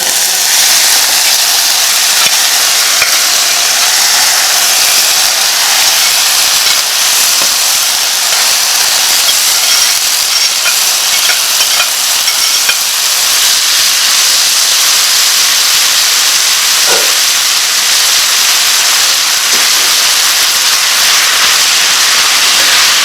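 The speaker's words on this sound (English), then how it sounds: "Now we'll add the veggies." Chopped vegetables sizzle steadily in a hot pot of stewing lentils and onion, a loud continuous hiss that holds evenly throughout with no talking.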